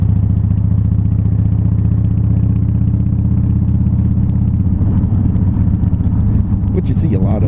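A Harley-Davidson FXDL Low Rider motorcycle with an aftermarket exhaust and stock airbox runs with a loud, steady, low lumpy thrum close by, its throb shifting slightly near the end.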